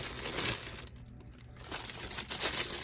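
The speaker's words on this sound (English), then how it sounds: "Let me unwrap some of this stuff." A gift package from a birthday box is unwrapped, its paper crinkling and tearing in quick close bursts with a brief pause in the middle before the rustling resumes.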